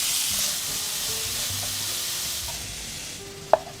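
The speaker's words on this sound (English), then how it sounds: "Cook, stirring constantly." Garlic and onions frying in olive oil in a pan while being stirred, giving a steady, moderately loud sizzle with soft scraping of the stirring, then a couple of sharp utensil clinks near the end.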